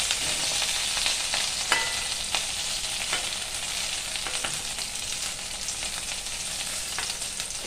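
Potato fritters fry in hot oil with a steady, close sizzle and occasional sharp crackles and pops, continuous throughout with no talking.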